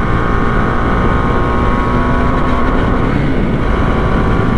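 Motorcycles, including a KTM Duke, roar steadily at the start of a street drag race among motovloggers, a loud, dense engine drone heard from close by with wind rush and no talking.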